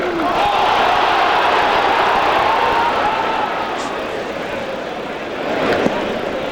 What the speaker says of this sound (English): this crowd just roared as Mo Vaughn deposited that one in the upper deck